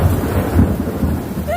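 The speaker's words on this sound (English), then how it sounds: "We're gonna see if we can get another loud thunder crack." Loud, continuous rumble of thunder in a stormy rainstorm, a broad low roar filling the whole stretch with steady rain hiss beneath it.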